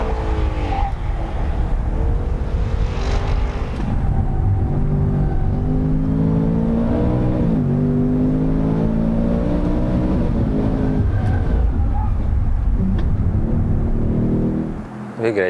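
A Ford Mustang Dark Horse V8 pulls hard under throttle, its roar climbing loud and close with a tire squeal and engine pitch rising through the gears.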